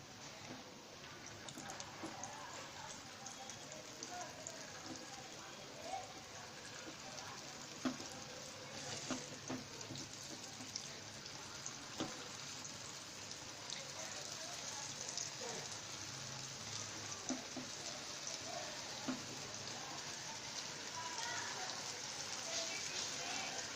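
Jalebi batter sizzles steadily in hot oil, a continuous crackling hiss like light rain that runs throughout with occasional sharper pops; no one speaks over it.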